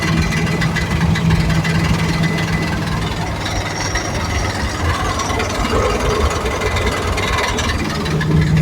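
A blown car engine clatters and knocks loudly and continuously, a steady mechanical rattle with no voices.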